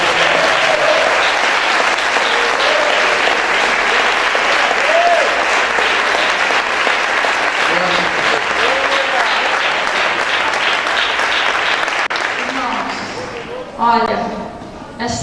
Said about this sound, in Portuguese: Se você foi ministrado por essa palavra, aplauda ao Senhor e agradeça.